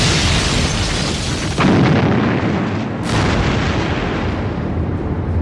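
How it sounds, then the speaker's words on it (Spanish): Torpedo explosions striking ships in a wartime convoy at sea, heard as a continuous roar of booming blasts with a sharper burst partway through, loud and close with no voices. "Y explosiones."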